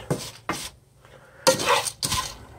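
Buttered Cheerios being stirred around in a pan, with four bursts of dry clattering and scraping against the metal and short pauses between them, loud and close with no talking.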